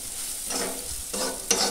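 Onions with turmeric fry and sizzle in a pan as a spoon scrapes and stirs, a low steady hiss broken by a few louder scraping strokes.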